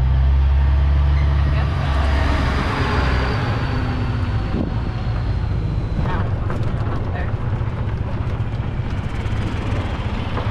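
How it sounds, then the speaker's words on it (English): A tractor trailer hauling a camper rumbles past near a camping resort entrance, a heavy low engine drone and road noise swelling and then fading, heard steadily from a moving golf cart. "Here comes a tractor trailer with a camper on"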